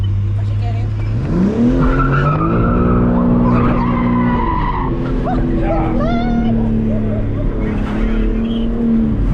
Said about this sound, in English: I hear the turbo though